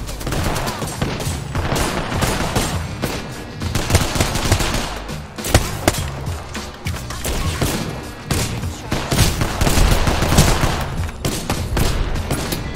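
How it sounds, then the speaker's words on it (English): Heavy gunfire from several teams in the Apex Legends video game, dense overlapping bursts of automatic weapons and single shots rattling continuously and loudly throughout, with no speech. "We're getting shot by multiple teams"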